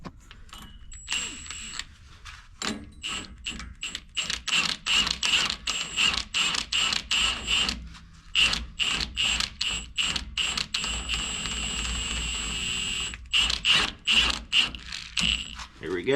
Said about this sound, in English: we're gonna run the lug nut on there with the impact and suck that into place.